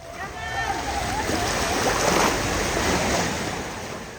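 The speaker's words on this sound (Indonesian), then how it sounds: "dengan deburan ombak seperti ini" Ocean waves roll and crash in a continuous loud wash, with wind buffeting the microphone throughout.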